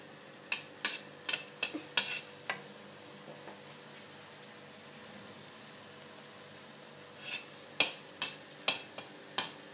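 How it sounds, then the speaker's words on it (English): Garlic stir-frying in hot olive oil, a soft continuous sizzle broken by sharp clacks of a utensil against the pan in quick bursts, near and alone. "here is our olive oil and with garlic in it, and let us heat it and let us stir fry it"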